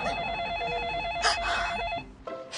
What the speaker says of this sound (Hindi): अभी बॉस का फोन आएगा